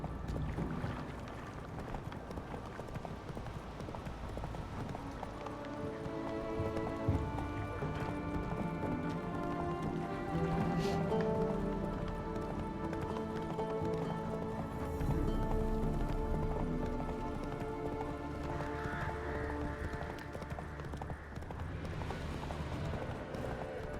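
Roach, the horse in The Witcher 3, gallops with steady rhythmic hoofbeats beneath sustained game music throughout.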